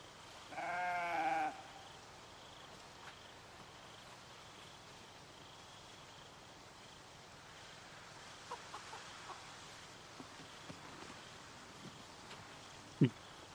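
A single loud sheep bleat in the video game Project Zomboid early on, then quiet ambient hiss with a few faint clicks and a sharp knock near the end.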